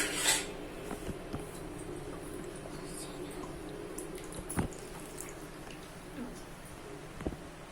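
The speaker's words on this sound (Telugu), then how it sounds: "ఇందులో కొద్దిగా వాటర్ వేసి గిన్నె కడిగేసి కూడా వేసేసుకోవచ్చు" Water swishes around inside a metal pot being rinsed out, with occasional clinks and taps, a steady splashing at moderate distance.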